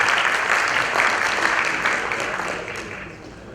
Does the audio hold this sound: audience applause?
yes